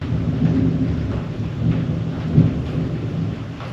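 Low, rolling thunder rumbles continuously with rain noise, swelling briefly mid-way; no voices.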